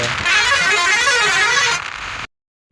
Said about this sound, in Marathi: आता बघा आपल्याला लाईट कसा द्यायला आणि हॉर्न कसा असेल कडक मध्ये